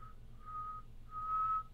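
A person tries to whistle, producing faint, thin whistled spurts in two short bursts with a brief gap between them, quiet and close with no talking.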